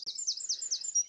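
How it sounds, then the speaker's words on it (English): A single bird sings at dawn, a quick, repeated series of high, sweeping chirps, clear and fairly close, with no other sounds around it. "Can you hear the birds singing?"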